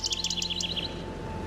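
Robins singing in a damp laurel forest, a quick run of bright, high chirping phrases close by for about a second, then fading to a low background hum.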